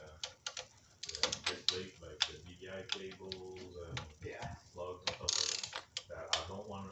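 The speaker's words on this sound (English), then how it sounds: "We're gonna go over here to our torque wrench." Torque wrench tightening throttle body bolts on a car, with a string of quick ratcheting clicks and mechanical clacks in short bursts, close by, with some talk mixed in.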